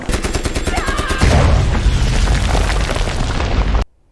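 Heavy gunfire and explosions in a war film set among German soldiers, loud rapid bursts and booming blasts that run on densely, then cut off abruptly near the end.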